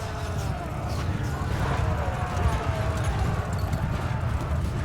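Horses galloping in a Mount & Blade II Bannerlord battle: a dense, continuous clatter of hooves with clashing and battle noise mixed in, steady throughout.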